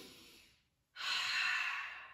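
One slow, audible breath during seated chair yoga at a desk, a fading exhale followed after a short pause by a long, strong, airy inhale close to the mic, with no talk.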